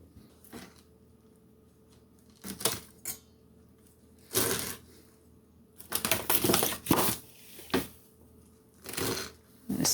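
Nasturtium and sorrel greens being cut for kimchi, irregular bursts of crisp chopping and slicing strokes separated by quiet pauses, close by.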